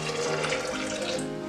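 Water splashes into a blender glass to rinse out leftover sauce for meatballs, a brief, close, continuous gush.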